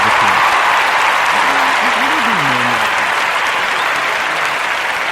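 A live audience applauds steadily and loudly for about five seconds, a dense, even wash of clapping with a faint voice murmuring underneath.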